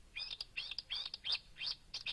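Marsh warbler song, heard at night: a series of about six quick bursts of bright, twittering chirps with short gaps, moderately distant and fairly faint, with no voices.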